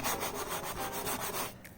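A brush scrubs back and forth across an engine valve cover, a rapid, rhythmic scratchy rubbing at close range, about a dozen quick strokes before stopping abruptly.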